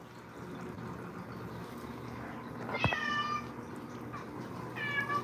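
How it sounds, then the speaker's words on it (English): A pet cat named Aslan meows twice in a kitchen while steak is being made, a short rising call at about three seconds and a fainter one near the end, both set against steady low background hum. "Yeah, she's a good cat."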